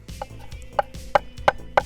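A knife chops through the large roots of a bunch of basil on a cutting board, outdoors by a grill, with five or six sharp, evenly spaced thuds landing at a steady rhythm, close and clear.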